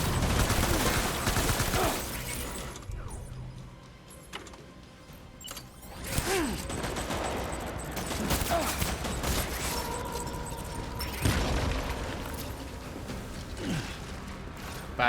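Sustained gunfire in the video game Death Stranding, with rapid bursts, mechanical clatter and reload clicks layered into a dense, loud firefight lasting throughout.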